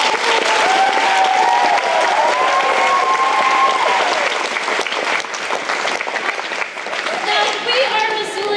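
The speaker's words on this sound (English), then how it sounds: "So let's give that big group a round of applause." A crowd claps loudly and steadily, with a few cheers and voices mixed into the sustained applause.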